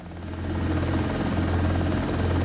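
A simulated helicopter in X-Plane 12 drones with a loud, steady, low engine and rotor hum that rises slightly at the start and then holds evenly, with no talking.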